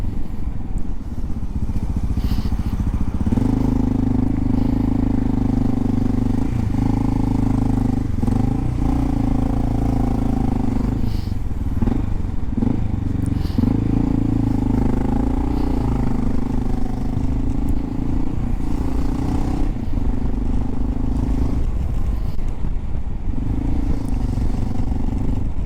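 A Honda XR650L motorcycle lane-splits through traffic, its single-cylinder engine droning loud and close with shifting revs, clatter and passing road noise throughout.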